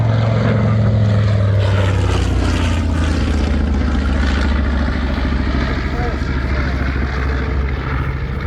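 Piston engines of a B-25 bomber at an air show, a loud, steady propeller drone with a deep rumbling low end that holds throughout, while voices talk faintly underneath.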